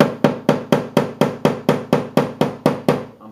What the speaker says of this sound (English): I'm putting constant pressure outwards on the bottom as I'm hitting in on that crease.